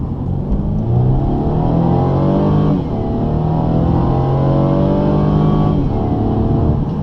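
A 2017 Mercedes C300 Coupe engine pulls hard from inside the cabin, its pitch climbing through one gear, dipping at a shift near the three-second mark and rising again, steady and fairly loud with no talk.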